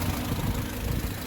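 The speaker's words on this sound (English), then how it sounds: "As you can hear, it sounds like a diesel engine." A car engine idles with a rough, diesel-like clatter after replacement of parts for a P0341 code with low RPMs, a steady low rumble running throughout with no talk.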